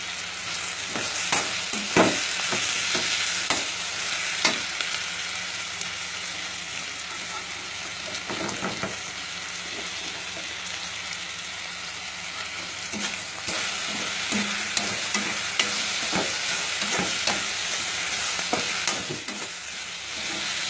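Grated coconut and cashew nuts frying in a pan for mushroom kulambu give a steady close sizzle, broken by repeated scraping knocks of a spoon stirring against the pan.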